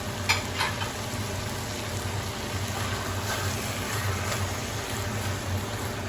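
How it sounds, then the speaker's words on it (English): Tomatoes go into a hot frying pan of Italian hot peppers, bringing a brief clatter and then a steady, close sizzle and bubbling that continues evenly without speech. "So now we're going to add our tomatoes, and that's 1 cup of tomatoes."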